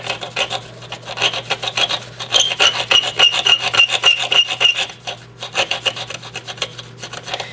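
A paramilitary knife blade is scraped and rubbed against an S30V steel blade, giving a gritty rhythmic rasp of quick strokes with a brief ringing metallic whine in the middle, close up and with no talking.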